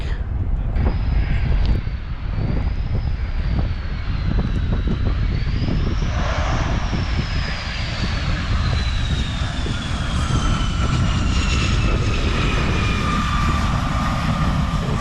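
A Boeing F/A-18 Super Hornet fighter jet passes at the Stuart Air Show, a loud, continuous jet roar whose pitch sweeps down as it flies by, over steady background noise from the crowd.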